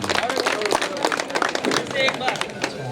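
Loud, dense applause from the audience at an Urdu mushaira poetry gathering, with sharp clap transients packed steadily throughout and voices mixed into the crowd noise.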